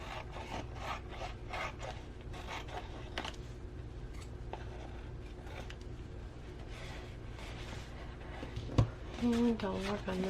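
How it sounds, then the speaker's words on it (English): Paper edges are trimmed for a handmade junk journal, giving steady dry scraping and rubbing strokes close up, with a few louder taps near the end. "I'm going to go around and trim my edges."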